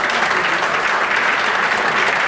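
A general assembly hall full of party members applauds the Lyon delegation, a steady, dense wash of clapping that stays loud and even throughout with no pauses.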